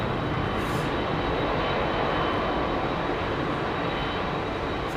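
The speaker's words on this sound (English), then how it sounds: "I will get that 747" A Boeing 747 airliner at London Heathrow Airport producing a loud, continuous broadband jet roar that holds steady throughout, with a faint high whine above it and no talking.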